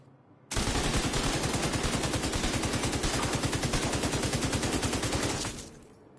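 Sustained automatic gunfire in the video game The Division 2, a rapid, dense burst of shots that starts abruptly, holds loud and unbroken for about five seconds, then cuts off.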